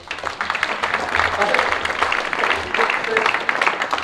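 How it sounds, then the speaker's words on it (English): A small group claps briefly, light scattered applause mixed with voices. "Little round of applause, not too much."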